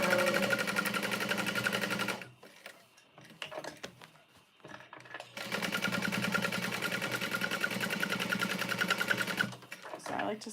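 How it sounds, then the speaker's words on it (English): A sewing machine runs in long, fast bursts while stitching all the way around the card slots of a custom order, pausing briefly in the middle, with a person talking quietly during the gap. "I like to sew all the way around to the card slots"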